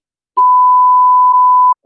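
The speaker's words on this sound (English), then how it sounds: "Beep, beep, beep, beep, beep." A single steady electronic beep tone, loud and clean, holding for over a second after a brief click, then cut off as another sound begins; no speech.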